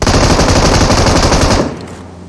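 Automatic weapon fire in a shooter video game: a loud, rapid machine-gun burst rattles continuously for about a second and a half, then cuts off abruptly into near quiet.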